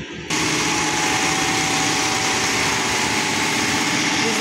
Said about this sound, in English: we'll start the engine as it is noisy